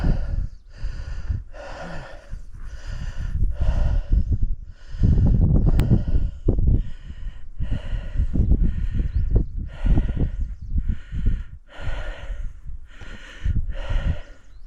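A horse gives repeated forceful snorts and heavy breathy exhalations, close by, in a steady rhythm alongside rustling on a mountain path, with no talking.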